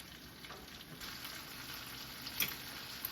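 A pot roast sears and browns in a pot, a low, steady frying hiss with one brief scrape partway through, faint and short.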